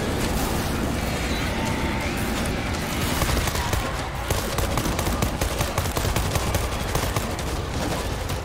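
Dense rapid gunfire fills the World War Z zombie shooter game, a loud continuous fusillade of automatic weapons crackling steadily without pause.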